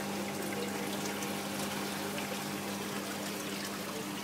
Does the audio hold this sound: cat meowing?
no